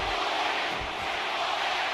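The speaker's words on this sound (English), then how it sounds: "The crowd firmly in the corner of Triple H here." A roaring arena crowd in the WWE 2K17 wrestling game cheers steadily in a dense, continuous wash of noise that holds for the whole moment without pause.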